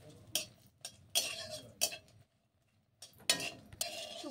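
Dried red chillies with a pinch of salt stirred in mustard oil in a wok, quick clinking scrapes of a utensil against metal in short bursts with a brief pause, faint and close.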